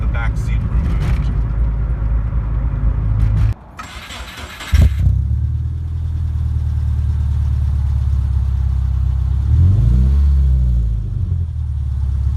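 Inside a 1990s Subaru Impreza 2.5RS GC8 fitted with a Borla muffled exhaust, windows up and back seat removed: a deep, boomy engine drone fills the cabin, briefly drops and restarts, then swells with a rising rev near the end.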